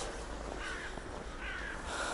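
Crows caw repeatedly outdoors in winter, several harsh calls spaced across the moment over a steady background of ambient noise.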